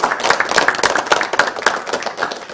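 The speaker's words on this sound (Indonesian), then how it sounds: "Tepuk tangan dong untuk kita semuanya" An audience claps during a live Islamic religious program on TVRI Bali, giving steady, dense, fairly loud applause with individual hand claps standing out.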